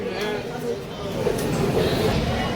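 Passenger train pulling out of Kurnool station on the Secunderabad to Vasco da Gama run, a steady low rumble and rolling rattle building slightly, with people talking over it.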